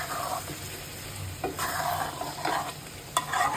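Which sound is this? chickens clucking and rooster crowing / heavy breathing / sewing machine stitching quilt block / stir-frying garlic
stir-frying garlic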